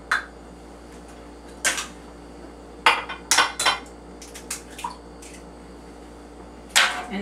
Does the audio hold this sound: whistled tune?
no